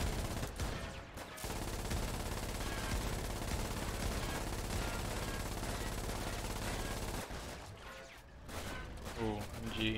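Sustained machine gun fire in the war game Foxhole, a loud continuous rattling barrage that runs for several seconds, then breaks into a few shorter bursts with quieter gaps near the end.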